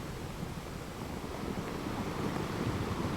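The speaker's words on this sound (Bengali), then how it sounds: "অন্ধকারের মধ্যে সাদা ঢেউগুলো আছড়ে পড়ছে পাড়ের মধ্যে" Steady, broad roar of surf rolling in continuously at night on Puri beach, with wind noise over the microphone and no distinct individual breaks.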